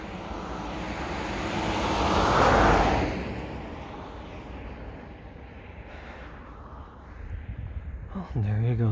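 A small radio-controlled Micro Cirrus SR22T model airplane makes a pass at half throttle, its electric motor buzzing louder as it nears and then fading as it flies by outdoors.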